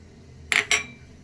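Cashews and cardamom pods drop into a metal cooking pot while making mutton curry, giving two quick, bright clinking rattles close by, each fading fast, with quiet room hiss around them.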